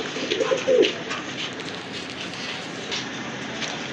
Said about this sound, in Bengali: আরেকটা পেয়ার দেখতে পাচ্ছেন, খুবই সুন্দর, একদম সাপ চোখের কবুতর